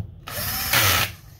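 Green machine screws being driven back into an Xbox Series X during a power supply replacement, a short close whirring burst of a small powered driver lasting under a second, alone.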